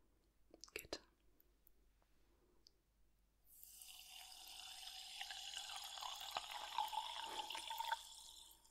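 A few soft clicks, then a steady stream of water pours and splashes continuously for several seconds.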